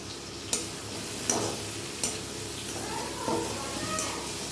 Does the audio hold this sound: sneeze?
no